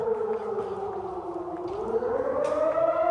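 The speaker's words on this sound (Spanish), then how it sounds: "lo que estamos registrando es cuando suena la alarma" A civil defense air raid siren warns of Russian bombing, with a single steady wail that slowly rises in pitch, loud and unbroken throughout.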